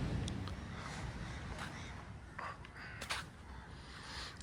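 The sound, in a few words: crows cawing at the beach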